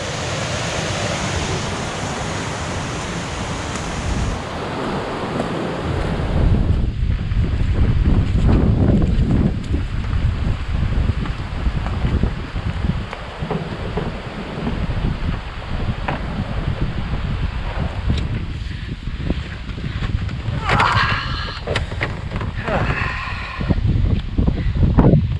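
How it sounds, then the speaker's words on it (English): Rushing waterfall in the Boundary Waters wilderness, a loud, continuous broadband roar of water that stays steady for the whole stretch, partly buffeted by wind against the microphone. "Had to go check out the waterfall one last time"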